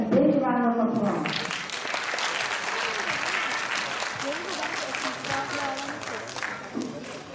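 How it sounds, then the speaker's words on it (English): Audience applause at a cultural day event on Long Island, a broad steady wash of clapping filling the room for several seconds, with a voice heard briefly at the start. "So please give them a big round of applause."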